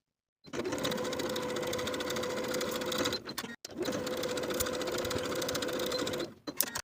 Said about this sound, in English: Sew these seams with a 5/8 inch seam allowance and press the seams open.